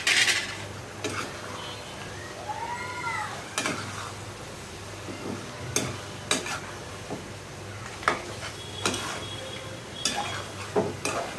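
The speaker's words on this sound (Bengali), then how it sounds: "আমি ভালো করে এটা মানে লাড়াচাড়া দিয়ে দিচ্ছি।" A spoon scrapes and clinks around a pot of chicken curry in onion gravy, with intermittent metallic strokes and soft sizzling. A cat meows faintly in the background.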